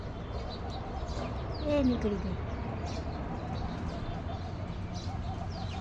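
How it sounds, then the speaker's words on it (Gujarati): Sparrows and other birds at a feeding spot outside a shop, scattered light chirps and a brief cooing call near the middle over a steady background hum, with a person speaking briefly. "જો ઓલી ચકલી માળામાં કામ કરી રહી"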